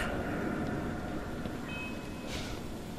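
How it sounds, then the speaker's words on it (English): Train rolling along rails in the Black Mesa video game, a steady, moderate rumble with faint metallic squeals and a brief whine partway through, no speech. "Back on the train."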